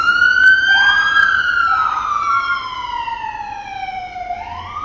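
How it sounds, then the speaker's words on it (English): An ambulance siren wails loudly and nearby, its tone rising and falling in long sweeping cycles over a low rumble of traffic, with no voices. "ambulance."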